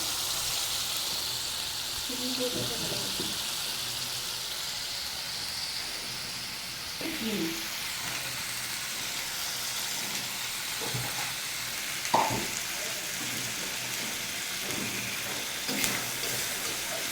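Spice paste with tomato sizzles steadily in a pan for a prawn curry, a close continuous frying hiss broken by several scraping stirs of a spoon, with no one talking.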